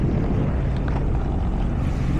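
A jet ski engine drones across the water of Valletta's Grand Harbour in Malta at sunset. It is a loud, steady rush, blended with heavy wind buffeting and splashing, with no speech over it.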